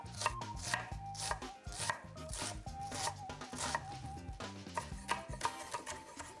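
A knife chops an onion on a cutting board in a steady, rapid series of close, crisp knocks that continues without pause throughout, in a kitchen preparing a risotto base.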